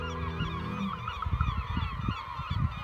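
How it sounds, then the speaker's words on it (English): Geese honking repeatedly in cold, dripping fog over a remote Arctic Norway coast near Hamningberg, a dense overlapping chorus of cries, loud and near, with no voices. "the endless cries of birds"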